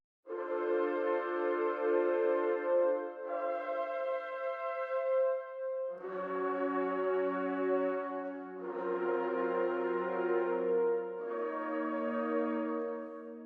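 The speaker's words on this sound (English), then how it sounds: "And we have the Cuivre Overblown FFF, which sounds like this." Overblown fortissimo brass ensemble patch (Cuivre Overblown FFF from Spitfire Audio's Albion V library) playing loud, sustained, harmonically rich chords that shift pitch across five long blasts, with no talk.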